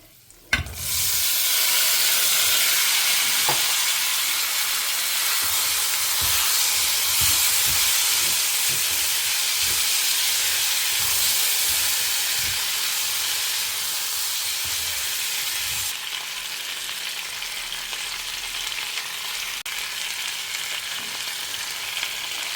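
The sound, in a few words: tempering spices sizzling in hot oil for ivy gourd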